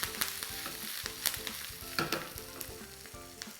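Spices with finely chopped ginger and curry leaves crackle and sizzle in hot oil, a steady busy frying with scattered pops and stirring scrapes, close by and with no voices.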